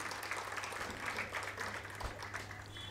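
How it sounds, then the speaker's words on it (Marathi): An audience at a lecture hall event claps together in a continuous, dense round of applause, heard fairly faint and distant throughout. "त्याच्यासाठी एकदा जोरात टाळ्या व्हायला पाहिजे असं मला वाटतं"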